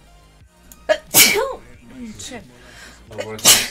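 A sharp sneeze bursts out early, a person speaks briefly, then a second sneeze follows near the end, close and loud during casual gameplay chatter between two players.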